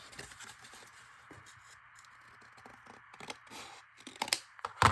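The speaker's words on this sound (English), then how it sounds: "So I will just cut this right on that line." Scissors snip through thin tissue-box cardboard with iridescent film, a run of soft crisp cuts that grows busier and louder toward the end, close and with no talk.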